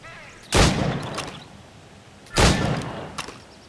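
Two loud single gunshots, about two seconds apart, fired at targets in Assassin's Creed Rogue, each with a short echoing tail over faint background.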